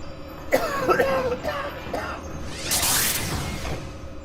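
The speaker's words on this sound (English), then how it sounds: "I apologize for the coughing." A person recovering from the flu coughs a few times, with harsh, sharp bursts and some throat clearing, close to the microphone, followed by a breathy rushing swoosh.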